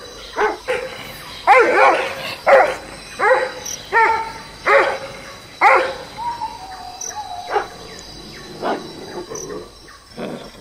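A dog barks repeatedly in uneven bursts, about a dozen barks, fairly close, with crickets chirping faintly in the background, in the game Jurassic World Evolution 2.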